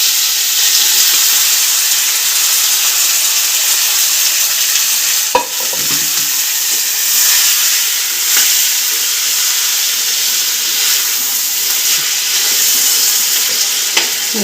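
Beef fry is stirred in a pan, sizzling steadily and loudly up close, with a few sharp scrapes and knocks from the stirring spoon.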